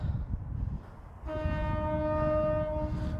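A train horn blares in a long steady chord after a second of rumbling, holding loud and close over the low rush of the passing train.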